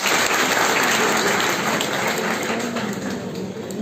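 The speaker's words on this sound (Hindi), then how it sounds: "आप सबकी भरपूर तालियों में तंजीला अहमद साहब" Dense, sustained audience applause at a grand dialogue on media freedom held on a university campus, a thick continuous roar of clapping that stays loud throughout and fades only slightly near the end.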